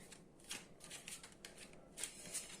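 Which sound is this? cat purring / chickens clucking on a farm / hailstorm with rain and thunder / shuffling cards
shuffling cards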